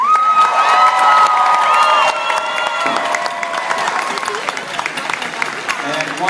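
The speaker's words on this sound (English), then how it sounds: "another round of applause for the amazing cosplayers who came up on stage" A convention crowd at MomoCon 2014's cosplay craftsmanship competition applauds and cheers for the cosplayers on stage, with loud sustained clapping, whoops and high shouted voices mixed throughout.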